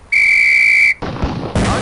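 A single sharp, shrill training whistle from the Police Quest: SWAT game sounds for nearly a second, then gives way to two loud gunshot-like booms.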